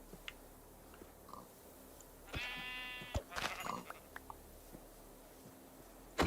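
Sheep bleat in the video game Minecraft, a short harmonic bleat in the middle of a quiet grassy outdoor scene, followed by a few soft chewing-like clicks.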